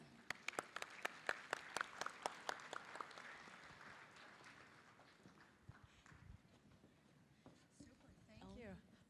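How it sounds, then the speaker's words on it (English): An audience at a university global experience festival applauds as the provost is welcomed to the stage: sharp, fairly sparse claps at first that thin out and fade, with voices rising underneath toward the end. "we can give her a round of applause."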